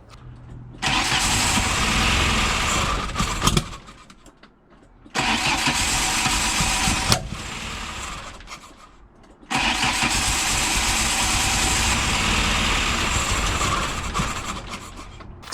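A VW Golf Mk2 with a 1.6 engine, run with help from a fuel can, starts in three loud, close bursts. Each time it catches and roars briefly, then fades or cuts out before starting again.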